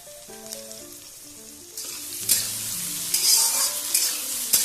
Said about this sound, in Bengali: পেঁয়াজটা একটু নেড়ে চেড়ে হালকা লাল করে নিই